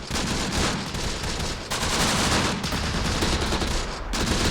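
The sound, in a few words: 30 cal heavy machine gun firing in video game Close Combat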